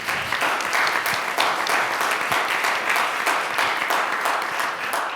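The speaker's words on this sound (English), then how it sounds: "I'd like to ask that you applaud this young lady again" Steady applause from an audience at a community forum, many hands clapping at once in a dense, even roar that holds throughout.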